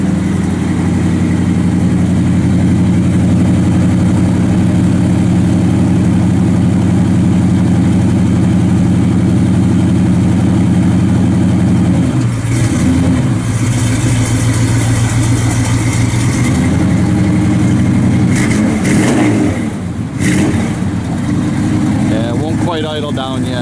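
A 1956 Chevrolet Bel Air 2-door post with dual exhaust idles with a steady low rumble, then revs hard several times, the exhaust note rising and falling close by.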